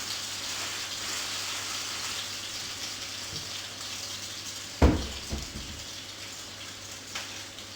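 French toast Monte Cristo sandwiches fry in a hot pan, giving a steady broad sizzle with a dull thump as one is set down midway and a few softer knocks after.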